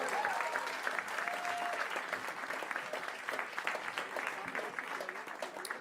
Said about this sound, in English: How about another round of applause for Kim?